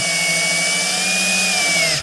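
A 12V cordless screwdriver whines steadily at close range as it drives a screw into a board, holding one loud, even motor pitch before stopping abruptly at the end.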